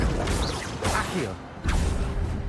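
Spell effects in the Hogwarts Legacy video game as the Accio summoning spell is cast: a few swooshing, clanking magical bursts in quick succession, the loudest striking near the end, with a faint voice underneath.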